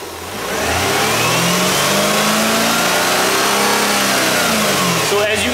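A car engine rises from idle into a steady, loud rev and holds there during a mass air flow sensor test in a workshop, the pitch climbing and then sustained, close to the microphone.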